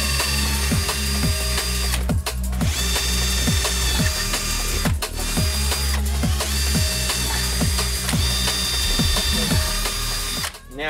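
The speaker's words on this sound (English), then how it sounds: "So we are all good, ready to start drilling." A power drill bores a hole into a mic boom mount, running loud and continuous with a rapid, regular whirring chatter and brief pauses as the bit bites in.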